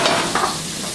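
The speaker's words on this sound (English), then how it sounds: "We want to let it sizzle for, I'd say, at least 3 minutes." Garlic sizzles and crackles in a hot frying pan, a steady hiss with a few brief stirring sounds, and nobody speaks.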